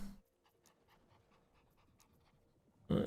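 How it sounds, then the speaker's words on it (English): A dog pants quietly and rhythmically close by, quick short breaths repeating under a near-silent background, ending with a sudden louder burst of noise. "Dog."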